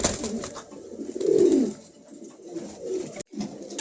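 A pair of Danish pigeons, white with red markings, give low soft cooing calls close by, with a louder swelling coo in the middle and quieter murmurs around it.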